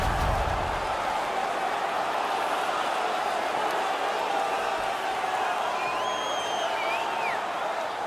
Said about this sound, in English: They're making all kinds of noise.